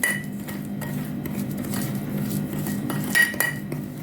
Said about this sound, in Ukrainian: Добавляємо по одній чайні ложечки водички. Розколочуємо гарненько.